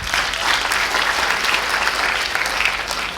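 A lecture-hall audience at a session on the Bhagavad Gita breaks into brief, even applause, a continuous wash of clapping heard close and alone for about three seconds.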